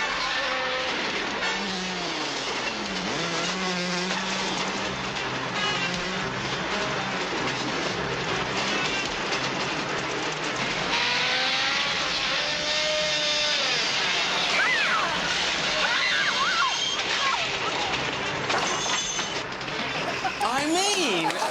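A motorbike ride in a film clip roars and revs continuously over about twenty seconds, heavily layered with music, crashes and other action sounds as people talk over it.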